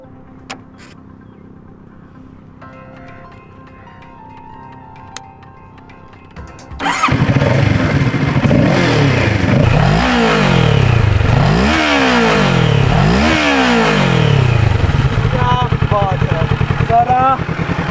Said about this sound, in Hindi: इस गाड़ी को चालू करने का वक्त आ गया है। इसकी सिजलिंग साउंड सुनने का मन हो रहा है